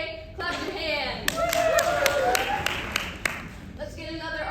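A crowd at an indoor climate education summit claps together, a burst of many hands lasting a few seconds, with some speech around it.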